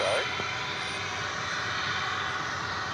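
Airbus A321 airliner arriving at DFW Airport, operating American flight from Cancun; a steady, fairly loud broadband jet roar holds throughout with no pauses.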